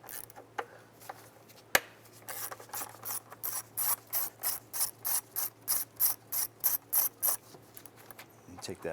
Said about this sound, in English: we want to go ahead and remove this bolt right here.